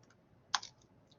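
A brief burst of computer keyboard keystrokes while a command is typed into 3D modeling software: one sharp cluster of clicks followed by a softer click, quiet and close, with no talking.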